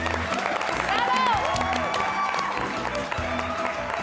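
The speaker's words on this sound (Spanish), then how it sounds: "Xulio Mato, Merche Rodal, un aplauso para ele." Audience applause at a live cooking show event, a steady wash of clapping from a crowd, moderately loud, with voices and a melodic tone running underneath.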